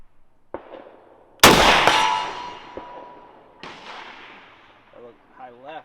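A Krag-Jorgensen M1892-99 rifle shot at a steel target outdoors: a single sharp, loud report with a long ringing decay, a fainter metallic clang afterward, and voices briefly nearby.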